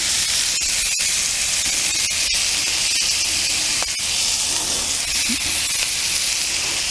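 Venison back strap searing in a hot pan, a loud, steady sizzling hiss with scattered sharp pops and crackles spitting through it, close up and continuous with no voices.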